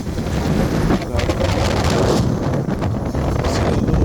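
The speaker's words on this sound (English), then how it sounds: "Oh, it is windy." Steady, loud wind buffeting the microphone outdoors, a constant low rumble and hiss throughout with no pauses.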